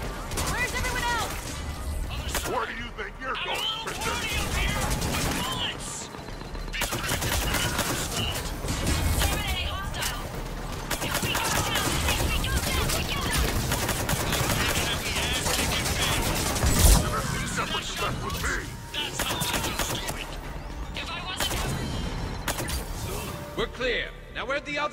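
Gunfire in the Mass Effect Legendary Edition video game crackles almost without pause as a sustained firefight, with voices talking over the shooting throughout.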